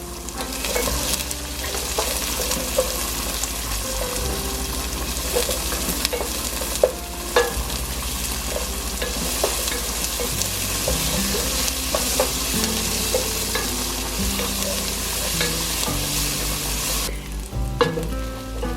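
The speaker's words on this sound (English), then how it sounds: "we're going to start with melting some lard in our pan, and we're going to brown our onions" Onions browning in melted lard in a pan give off a steady, close sizzle and fry for the full length, with occasional scraping stirs and utensil clicks; no one speaks.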